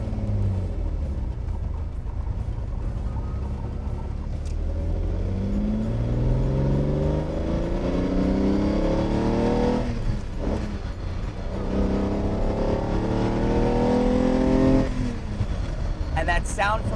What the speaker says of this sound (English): And that sound from the V12,